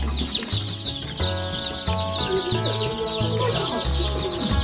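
Hens and newly hatched chicks clucking at a brooding farm, a steady busy chorus of close clucks and chirps over a low, pulsing background rumble.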